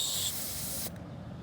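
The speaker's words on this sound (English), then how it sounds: "spray the bearing" A can of compressed air duster blasts a yo-yo bearing with a loud, close, sharp hiss lasting under a second before cutting off abruptly.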